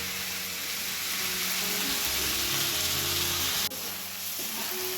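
Potato, onion and tomato paste fry in a pan, a steady hissing sizzle with low bubbling underneath, cut briefly by a sharp clink near the end.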